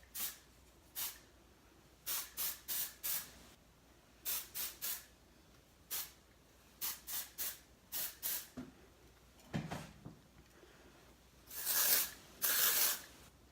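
Short hissing bursts of hairspray sprayed onto hair, released in quick clusters of two to four pumps with brief pauses, close and fairly soft, ending in two longer sprays.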